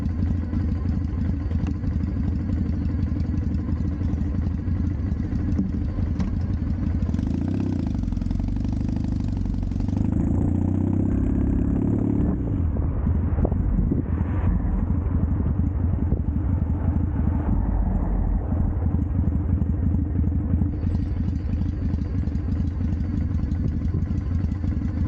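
A custom Triumph T100 motorcycle being ridden around York, its engine running steadily and loudly throughout with a low, continuous rumble and occasional rattling, and no speech.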